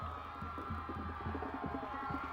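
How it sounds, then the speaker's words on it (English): Crowd of spectators cheering and shouting for a runner climbing uphill at the 1999 IHSA boys and girls cross country state finals, a steady moderately distant roar of voices with rhythmic thumping underneath. "The crowd cheering him on"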